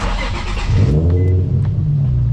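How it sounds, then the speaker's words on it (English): A Nissan 350Z HR engine cranks and catches, then settles into a steady, loud idle rumble close by, with no talking. "We got to start the car."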